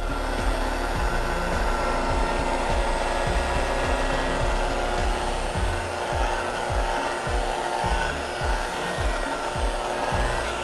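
A hand-held electric mixer beats thickening banana nut chocolate chip muffin batter in a bowl, a steady loud whirring with rhythmic low scraping thumps as the beaters work through the dense mixture, with no talking.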